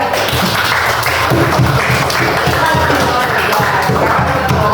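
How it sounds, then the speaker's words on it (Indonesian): Students in a junior high classroom applauding a presenting group, loud close clapping with thumping taps, steady and dense throughout with some voices mixed in. "tepuk tangan untuk kelompok 3"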